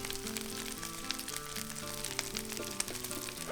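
Food sizzles and spits steadily on a five-burner Pit Boss flat top griddle, a soft, continuous frying hiss with occasional small pops, heard alone at low volume.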